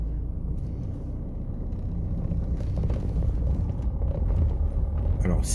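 A Peugeot 207 HDi diesel runs while driving after a hard start, its engine prone to cutting out, heard as a continuous low rumbling drone inside the car with a slight rise in level toward the end.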